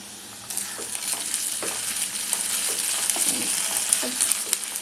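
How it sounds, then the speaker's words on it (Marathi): Ginger garlic paste sautés with browned fried onion in a hot pan, giving a steady close sizzle throughout with soft scrapes and knocks as it is stirred. "आलं लसूण पेस्ट चांगली ही परतायची आहे"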